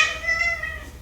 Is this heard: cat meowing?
yes